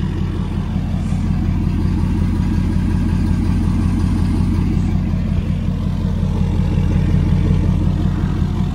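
Ford F-250 XLT pickup engine running with a deep, steady exhaust rumble at idle, loud and close, continuous for about nine seconds with no talking.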